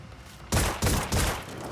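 Turret gunfire in a video game, three heavy bursts of rapid shots following a quiet lead-in, each burst loud and booming, with no voices over them.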